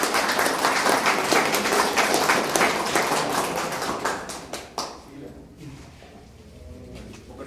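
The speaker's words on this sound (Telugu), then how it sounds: "ఒకసారి క్లాప్స్ కొట్టండి" An audience claps at a village secretariat meeting visited by an engineering chief, with dense, loud applause for about five seconds that thins into a few scattered claps and then fades to quiet room tone.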